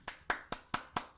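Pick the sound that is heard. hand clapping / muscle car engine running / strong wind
hand clapping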